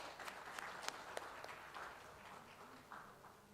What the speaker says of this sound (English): A huge round of applause to each one of us,